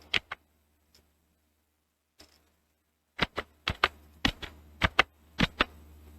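Keys tap on a computer keyboard as a name is typed: a couple of isolated clicks, a pause, then a quick irregular run of sharp, close taps.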